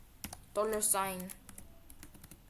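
Code typed on a computer keyboard while building a search bar in HTML, Tailwind CSS and jQuery, with a run of close, crisp keystrokes and a voice speaking over the middle.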